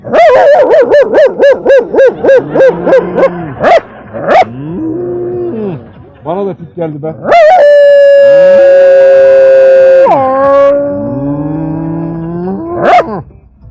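A man imitates a dog, giving a rapid series of loud, close barks, then drawn-out howls and yowling wails with falling tones; he murmurs and speaks briefly between the outbursts.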